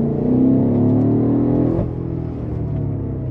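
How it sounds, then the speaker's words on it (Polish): BMW M5 F90 with a loud, rumbling exhaust as it accelerates, a steady deep engine drone with rising harmonics heard close and continuously for a few seconds. "ale jak ten wydech brzmi, to jest niewiarygodne w ogóle."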